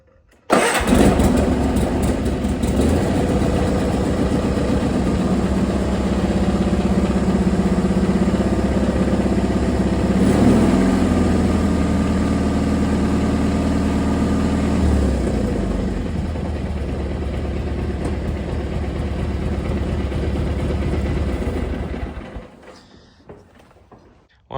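A small International Cub tractor engine cranks, fires right up and settles into a loud, steady running idle nearby, with a brief rev partway through before the engine cuts off near the end.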